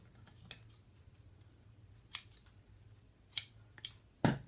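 Scissors trim excess upholstery fabric around the leg of a Parsons chair, a handful of short, crisp snips spaced irregularly over a quiet background, each cut sharp and close.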